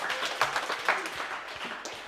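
Brief burst of audience clapping at a stand-up comedy gig at The Platform, Lincoln, a continuous spread of hand claps at moderate loudness with no voices standing out.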